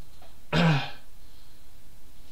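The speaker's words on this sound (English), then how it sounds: "I am coughing a lot. Clearing my throat a lot too." A single loud, close throat clearing with a rough cough-like burst, lasting about half a second, from a person with a sore throat, followed by quiet room tone.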